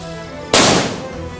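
Firecrackers set off outdoors after the Lebaran holiday give one sudden, loud, sharp bang up close, followed by a short crackling decay over a low background murmur.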